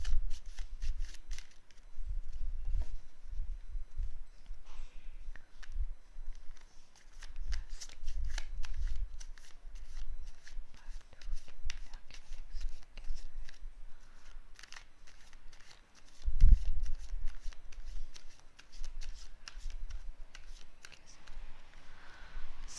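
A Rider-Waite tarot deck is shuffled over and over in repeated bursts of soft riffling card flutter, close and fairly quiet, with brief pauses and a single louder knock partway through.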